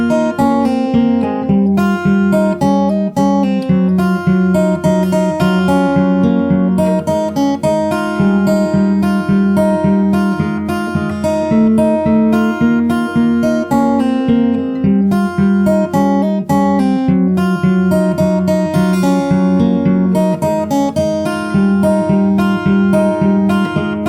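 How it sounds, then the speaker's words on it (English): Solo fingerstyle guitar working through the second verse of a song, a continuous stream of close, evenly plucked notes with steady bass, loud and without voices. "So if I play it from the start of the 2nd verse,"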